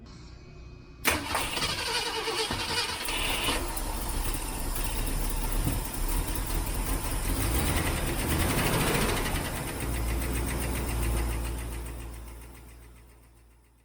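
A car engine fitted with a Holley carburetor cranks, catches and settles into a steady, loud rumbling idle close by, running alone for over ten seconds before tapering off.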